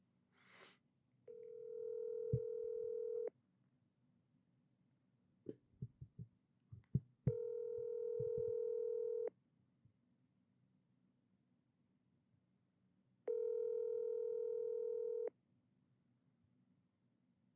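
An outgoing phone call rings three times in long, evenly spaced tones, with a few faint clicks and handling knocks between rings, before going to voicemail.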